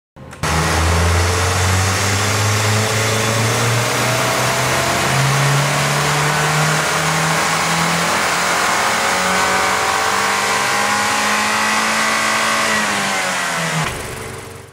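A Mazdaspeed 3 with a swapped blow-off valve revs on a dyno, its loud engine tone climbing steadily in a sustained pull for about thirteen seconds before cutting off abruptly near the end.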